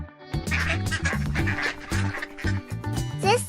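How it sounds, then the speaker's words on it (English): A duck quacks repeatedly in a steady series of nasal calls, set over a bouncy music backing with no talking. "This is a duck."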